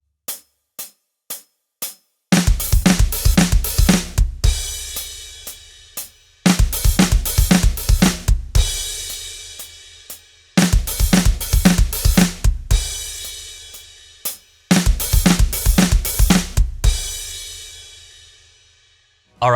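A rock drum fill from a song is played up to speed on a kit, with snare and bass drum hitting in tight straight eighth notes. Four loud, close bursts follow a few sparse count-in clicks, and cymbal wash rings between them.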